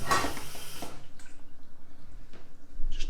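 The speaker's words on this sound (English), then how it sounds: "I'm going to rinse this with a little bit of water" A little water splashes while a can is rinsed of tomato into a cooking pot, in a short burst of pouring followed by a few faint drips and clinks, with no talk.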